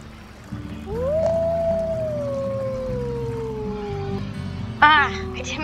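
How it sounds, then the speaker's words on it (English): A wolf in the WolfQuest video game lets out a single long howl that rises quickly, then slides slowly downward and holds for several seconds, loud and near, over a steady game background with a brief noisy burst near the end. "I did my secondary howl again."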